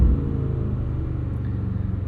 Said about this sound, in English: listening to V8 noises